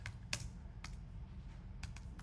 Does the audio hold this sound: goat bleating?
no